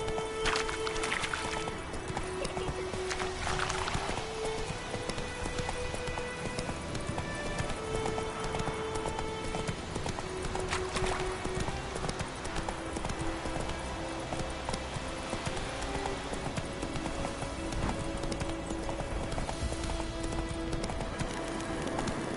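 Horse galloping in The Witcher 3, a rapid rhythmic clip-clop of hooves carrying on steadily under game music and ambient sound.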